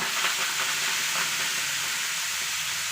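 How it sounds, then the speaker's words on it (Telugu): Gongura leafy greens frying in a pan, a steady close hiss and sizzle with soft stirring scrapes throughout, no voices. "ఇప్పుడు ఆకుకూర వేయించుకుంటాను"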